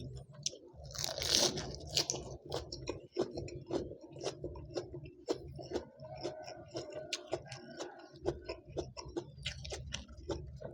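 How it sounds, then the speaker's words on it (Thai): Close, repeated crunching and chewing of crisp raw vegetables eaten alongside a Thai red ant egg salad, with irregular bites and sharp crackles running steadily throughout, no talking. "ผักอันนี้ก็กรอบดีมาก"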